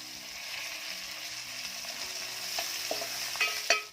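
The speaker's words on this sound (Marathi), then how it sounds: "लसणाचा रंग बदलला की त्यामध्ये बारीक चिरलेला कांदा घालायचा आहे" Finely chopped onion frying with garlic in a pan for a methi vegetable dish, a steady close sizzle throughout with a few scrapes and taps of a spatula toward the end, no voices.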